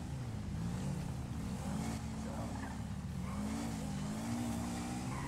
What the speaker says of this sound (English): The dirt bike coming.